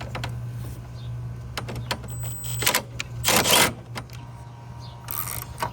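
Quarter-inch ratchet turning an engine mount bolt on a BMW 228i, giving short bursts of rapid clicking at irregular intervals, close and fairly quiet over a steady low hum.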